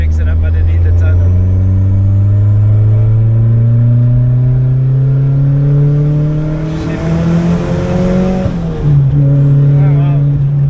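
A turbocharged 200kW Opel Corsa B GSI accelerating hard through a tunnel, its engine pitch climbing through gears with a brief dip at a shift, loud and echoing, with voices talking over it.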